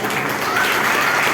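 Congregation applauding in a church service, a steady, dense wash of many hands clapping together, loud and close throughout with no pauses.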